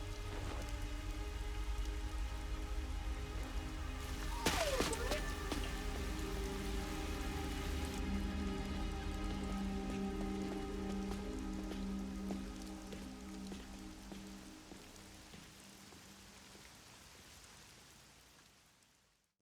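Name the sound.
rain in video game Master Detective Archives: Rain Code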